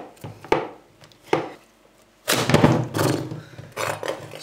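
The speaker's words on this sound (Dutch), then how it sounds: "Het eerste wat we doen is de pompoen in schijven snijden." A sharp kitchen knife forces its way through a hard pumpkin to cut it into slices, giving two short thuds followed by a longer, louder stretch of crunching, scraping cuts close by with no talking.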